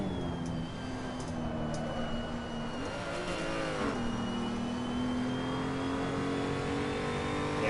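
A car drives steadily with a humming engine tone that dips and rises as the driver slows and speeds up, a continuous moderate road drone with no talk.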